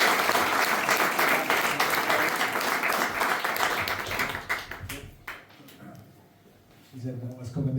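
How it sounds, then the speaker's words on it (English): Warm applause from an audience at a book launch for the Mayor of Tralee, Terry O Brien: a full, sustained round of clapping that thins out into scattered claps, followed by a voice beginning to speak. "Please give a very, very warm round of applause to the Mayor of Tralee,"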